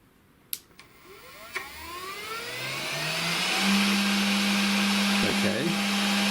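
The motor of a DIY mini CNC machine is switched back on after a couple of clicks, and its pitch rises steadily into a loud, sustained high whine that holds steady, with a brief knock near the end.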